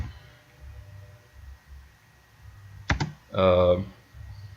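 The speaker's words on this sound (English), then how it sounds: "hit slash key, and then we type in deck 1 level" Computer keyboard typing while setting up a slash-key command in Virtual DJ 8: soft scattered key taps, then a few louder clicks and a brief rattling burst of keys, close, with a low voice murmuring in the background.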